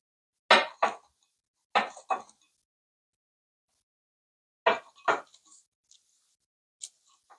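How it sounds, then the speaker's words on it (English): A metal bench scraper chops down through shortbread in an 8x8 pan, giving sharp clinking strikes against the pan in pairs with pauses between, then a couple of lighter taps, close and clear. "we're going to take our bench scraper again and just go right through on the lines that we made"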